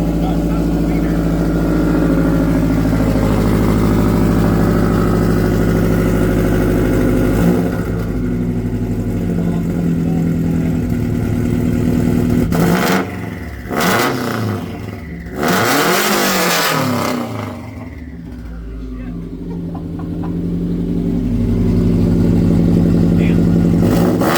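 A loud car engine with a harsh, raspy straight-pipe exhaust drones steadily, then revs up and down in bursts before settling back into a loud rumble.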